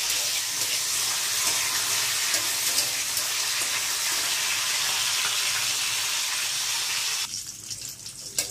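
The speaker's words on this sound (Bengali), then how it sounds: "সবগুলো একসাথে ভাজা ভাজা করব" Peanuts, cashews, raisins, bay leaf, cinnamon and cardamom frying together in oil for semai, a dense continuous close sizzle that holds steady and then drops away sharply near the end.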